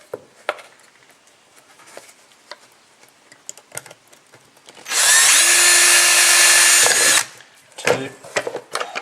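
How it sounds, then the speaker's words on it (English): An electric drill whirs loudly for about two seconds, a high steady whine, drilling holes in end caps, surrounded by quiet clicks and handling taps before and after. "we're going to just drill 4 holes like that."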